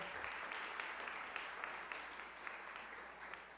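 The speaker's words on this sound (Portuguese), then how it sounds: "Primeiro um aplauso, né, para o nosso apresentador, Samuel." A church congregation at a Sunday service applauds the presenter with a thick, continuous roar of many hands clapping, heard faint and distant throughout.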